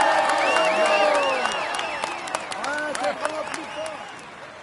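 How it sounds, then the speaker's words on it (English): A crowd at a Tour de France podium ceremony cheers, whistles and applauds the riders, a dense, continuous wash of clapping and shrill whistling that slowly fades. "you can clap him loudly"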